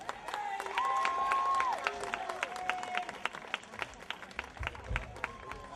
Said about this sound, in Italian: Vogliamo con un grande applauso i Voz Perdida!